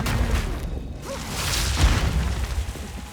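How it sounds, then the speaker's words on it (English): Deep, rumbling booms and bursts from spell explosions in the video game Path of Exile 2, layered and continuous with a whooshing tail, loud and close, with no speech. "It's almost too close for these big booms."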